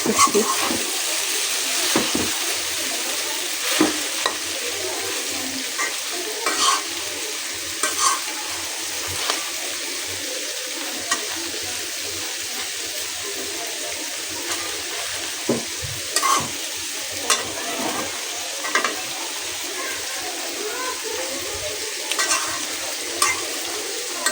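Chicken frying in a pan with potatoes, a steady close sizzle with scattered stirring clicks and scrapes throughout, no talk.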